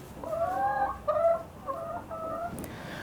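Laying hens in a chicken house give several drawn-out, nasal clucking calls close by, in four distinct phrases with short gaps between them.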